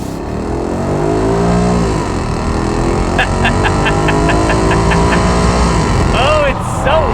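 A Maserati Quattroporte engine roars loudly and steadily as the car is driven, its revving drone running throughout beneath someone talking.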